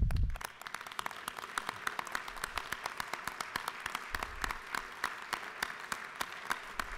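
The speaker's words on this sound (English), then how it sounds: "Would you please stand so we can clap?" Legislators in the Georgia House chamber give a sustained round of applause, dense steady clapping with sharp individual claps standing out, continuing loudly and evenly throughout.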